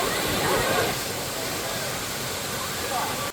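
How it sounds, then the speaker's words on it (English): A waterfall roars with a constant broad rush, heard loud and close with no break, ending abruptly. "Look at that waterfall."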